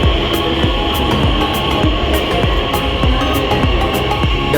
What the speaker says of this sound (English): here is our subway is arriving